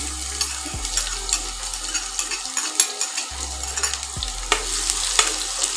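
Finely chopped onion from one large bulb sizzles and fries in hot mustard oil on an induction cooktop, a steady close hiss broken by scraping stirs of a spatula against the pan.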